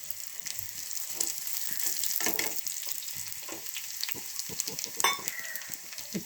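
Chopped ginger, a dried red chili and a sprig of curry leaves sizzle steadily in hot oil for Kerala-style tempered buttermilk, a continuous crackling fry with small pops and stirring clatter, close and alone.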